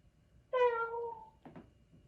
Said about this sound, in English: So there's different meows.